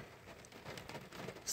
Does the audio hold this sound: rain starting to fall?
yes